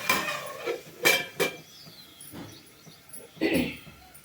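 Metal pot lid set back onto a cooking pot while making chamadumpa (colocasia) pulusu at home: a few short clattery clinks and taps, close and fairly quiet, spread over a few seconds with no talking.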